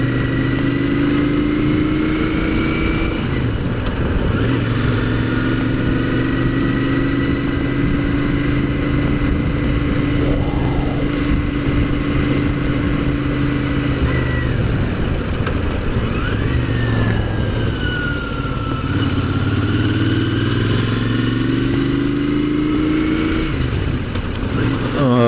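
A motorcycle ridden on a road on the way to a bike meet at Bishops Cleeve, its engine droning loud and steady throughout with rising and falling pitch as it accelerates and eases off, over constant wind rush.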